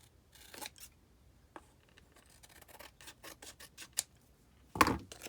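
Scissors snip through a paper journal tag in a run of quick, close, crisp cuts with brief pauses, finishing on one louder snip.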